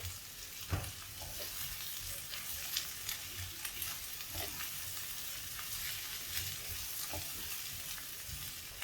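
Bitter gourd stirred in a pan with Kashmiri chili powder and coriander powder, giving a steady soft sizzle with scattered scraping taps of the spoon, close and fairly quiet, with no talking.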